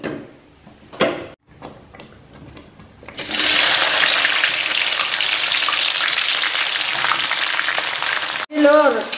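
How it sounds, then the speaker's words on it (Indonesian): Shallots frying in hot oil for fried shallots and fragrant oil, served with chicken porridge at breakfast: a dense, steady sizzle and crackle starts after a few knocks and clatters and runs loud and close, ending with a brief clatter. "sengaja Likmar goreng bawangnya yang pertama, bawang gorengnya pertama biar bisa minyaknya harum"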